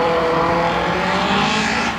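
A cross buggy race car engine roars loudly and close, revving hard as it accelerates at a 1/8-mile drag race.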